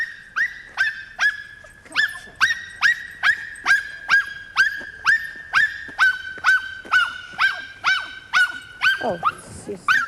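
Small dog giving a long run of sharp, high-pitched barks with whimpering yips between them, evenly repeated and close up, in a home setting.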